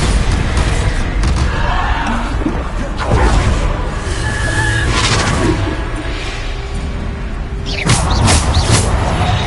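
Loud booming blasts from the Bombarda explosion spell in the Hogwarts Legacy video game, several heavy bursts with whooshing debris over continuous game noise.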